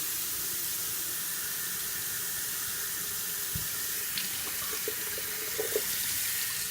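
Warm water running from a tap into a sink while waiting to wash a wig, a steady hissing flow with a few faint clinks and bumps near the end.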